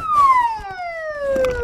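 An ambulance siren on a emergency vehicle in the Bakhchysarai district of Crimea, a loud, steady wail sweeping slowly downward in pitch as it passes close by.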